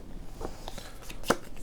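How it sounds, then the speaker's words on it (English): A small deck of fourteen cards is shuffled by hand, with a few soft riffling flicks and one sharper snap near the end, quiet and close with no talk over it. "deck here, 14 cards. Shuffle those up."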